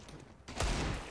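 A CZ pistol firing in a CS:GO match: one short, crisp burst of gunfire, fairly faint, cutting in about halfway through a quiet background.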